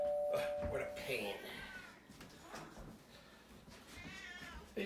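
A house cat meows a few times indoors, short nasal cries mixed with a person talking nearby, after a brief doorbell-like chime at the start.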